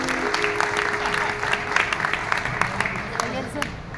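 An audience applauds for a performer at a music show, a dense, steady crowd clapping that stays loud for the full few seconds while a voice speaks over it.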